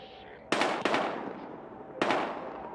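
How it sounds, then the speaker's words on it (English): Gunfire in the Battlefield Hardline video game: three sharp, loud shots in quick succession, each ringing out with a decaying echo, heard alone without talk. "We've got gunshots."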